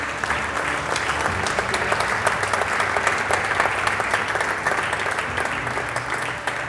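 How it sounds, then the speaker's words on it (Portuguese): A hall full of people at an award ceremony applauding steadily, many hands clapping in a thick, even wash that holds at the same level from start to finish without any voices on top. "um aplauso para todos."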